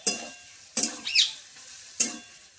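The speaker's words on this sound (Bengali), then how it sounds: "কচুরলতি আবার নাড়তে নাড়তে একদম সেদ্ধও হয়ে গেছে" Taro stolons cooked with coconut are stirred in a pan, giving three separate scraping strokes spaced apart over a soft, low sizzle, with a brief squeak between the first two.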